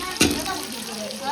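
Chopped green chillies sautéing in a pan, a brief hissing sizzle with a sharp stir or toss near the start, under a speaking voice.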